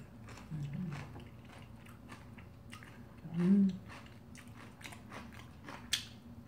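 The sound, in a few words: chewing roasted sweet potato and sour kimchi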